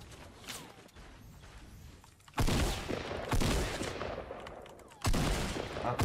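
Tactical shotgun blasts in Fortnite, two or three loud, close bursts spaced a couple of seconds apart over quieter background rumble, no talking.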